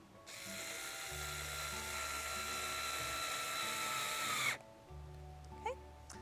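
A power drill drives screws while the roof is fastened onto a wooden nest box: a high, steady whirring run of about four seconds cuts off abruptly, followed by a brief, quieter burst.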